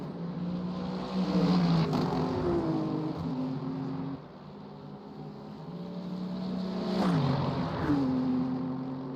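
GT3 race cars, a Mercedes-AMG and a Lexus, at Monza, their engines howling past with rising and falling pitch as they brake and accelerate, one passing close, then a second swelling in.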